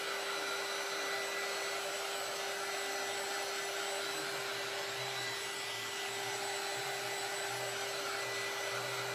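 Hair dryer blowing steadily on a freshly painted board, a loud continuous whir with a faint tonal hum running unbroken and alone throughout.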